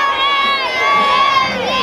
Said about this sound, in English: Give them a wave and a cheer as they go past.